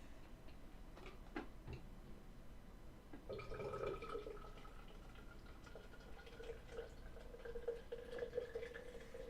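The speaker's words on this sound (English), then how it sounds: "my wife's getting a drink of water out of the fridge" Water trickles from a refrigerator's water dispenser into a glass, a steady thin pour that starts a few seconds in and runs on, with faint ticking taps before it.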